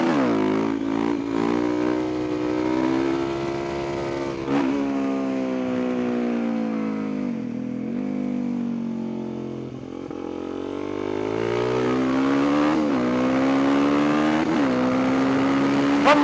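A Suzuki DRZ motorcycle engine idles and revs up and down in several swells, its harmonic drone rising and falling, close and loud throughout with no talk.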